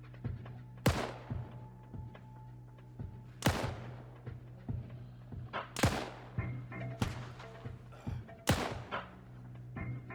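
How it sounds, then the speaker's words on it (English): AI soldiers shoot in a survival video game with zombies, sharp single gunshots cracking at spaced intervals of roughly two to three seconds, each with a short echoing tail over a low, steady hum and faint clatter. "Now the AI are coming in and shooting."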